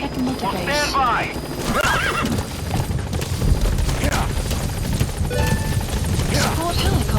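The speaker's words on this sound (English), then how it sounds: "Support helicopter has arrived." A support helicopter arrives in Metal Gear Solid 5, its rotor and engine noise droning steadily beneath repeated horse whinnies, clip-clopping hooves and talk.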